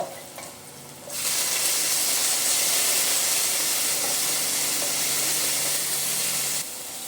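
Tomatoes hit a hot pan and sizzle loudly while sautéing for chicken sinigang, a steady bright frying hiss that starts abruptly after a quiet moment and continues evenly before stopping.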